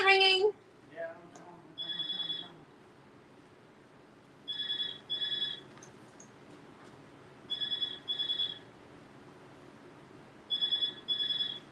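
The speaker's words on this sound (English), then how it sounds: "So, the phone's ringing." A telephone rings in a crafting room, with paired electronic trills repeating roughly every three seconds at moderate volume over a soft background hum, after a brief voice at the start.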